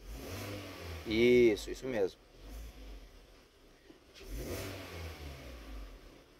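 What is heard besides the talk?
car engine revving at idle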